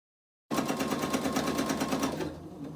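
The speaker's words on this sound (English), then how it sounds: "It will pull out of the stitching just fine." An embroidery sewing machine starts suddenly and stitches with a fast, steady rapid-fire rhythm of needle strikes, close and continuous, easing slightly in the final moments.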